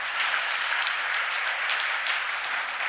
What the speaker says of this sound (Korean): 다시 한번 격려의 박수 부탁드리겠습니다.